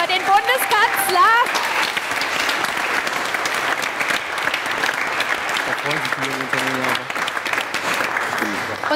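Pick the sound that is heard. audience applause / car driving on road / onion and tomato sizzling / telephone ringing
audience applause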